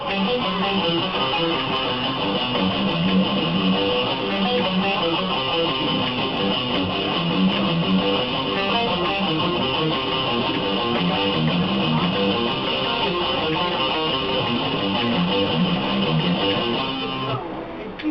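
A distorted electric guitar loops a busy, repeating riff at full volume, continuous and close, for the whole stretch before easing off at the end.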